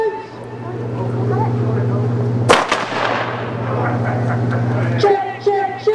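Simulated 4-inch naval gun fire aboard HMS Belfast during a D-Day demonstration: a sharp blast cuts through a steady engine-like hum, followed by a second quieter report as voices talk.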